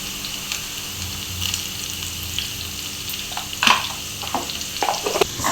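Salt and curry leaves being stirred into a frying pan, a steady close sizzle under scattered scraping and clinking spoon strokes, with no talking.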